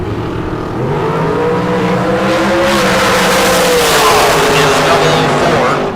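Drag racing dragsters roar down the strip at a K&N Southwest Showdown event, loud, close engine noise rising in pitch throughout, with an announcer talking over it.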